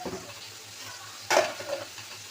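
Eggplant and onion fry in a pan, with a soft steady sizzle that swells into one louder burst of stirring and hissing partway through, then settles back.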